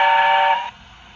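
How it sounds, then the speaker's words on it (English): Model steam locomotive sounding its whistle, a loud, bright sustained tone lasting about half a second before cutting off abruptly, leaving a faint low hum. "A long whistle."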